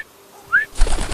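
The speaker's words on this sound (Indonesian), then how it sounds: "Itu Den, ada burung Den" A bird in an animated cartoon gives a short, clear cooing call like a pigeon, followed at once by a burst of flapping or rustling noise, with no talking.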